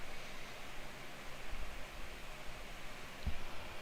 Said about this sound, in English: is that white noise too much?